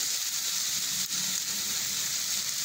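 Tomatoes sauté in a pan with rock salt for a sardine fish curry, giving a steady, close hiss and sizzle that stays even throughout, with no speech.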